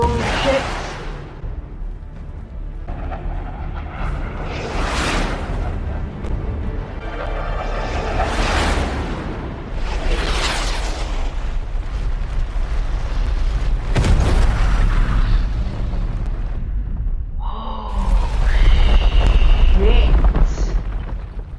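A torpedo explosion in an episode of The Expanse, heard as deep rumbling booms and whooshing blasts that swell repeatedly over a sustained roar, loud and dense throughout.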